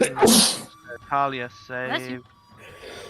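One loud, sharp sneeze close by, followed by a person speaking calmly in a quiet room.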